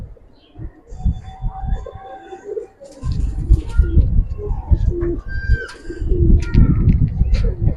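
Giribaz pigeons coo in a loft, low throaty calls mixed with fluttering and shuffling noise, with faint voices in the background.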